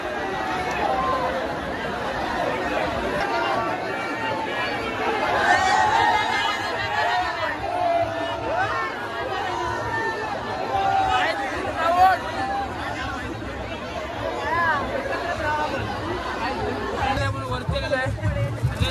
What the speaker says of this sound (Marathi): खूप म्हणजे खूप गर्दी आणि वरचा माहोल बघा किती छान आहे